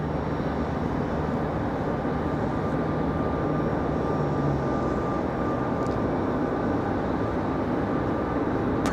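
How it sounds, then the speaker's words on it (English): A Frontier Airbus A321neo departing Raleigh Durham International Airport, its engines a loud, continuous broadband roar that holds steady across the whole stretch, with no talking over it. "Frontier 1039 off to Orlando. Our last departure there,"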